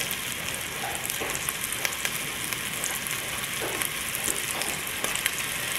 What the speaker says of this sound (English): Place the meatballs in.